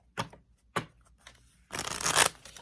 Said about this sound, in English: put the Seven of Cups and Seven of Wands back in and give it a shuffle